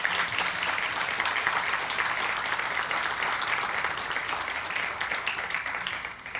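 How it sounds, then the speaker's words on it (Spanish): Steady, dense applause from an audience fills the hall at the opening of the 13th Latin American Congress on Peace Research at a university, continuous and moderately distant for several seconds before easing slightly at the end. "Les damos un caluroso aplauso a todos."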